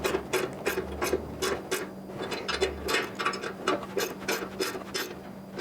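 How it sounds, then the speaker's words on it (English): Close, repeated ratcheting clicks from fasteners being hand-torqued with a screwdriver during rail and strut assembly of a saw build, in short regular bursts with brief pauses and no talking. "I'm going to torque these by hand"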